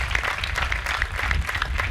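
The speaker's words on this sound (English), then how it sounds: "can we give a round of applause for our administration?" Audience at a 2021 school graduation applauding, a steady dense wash of clapping that holds for the whole stretch without breaks.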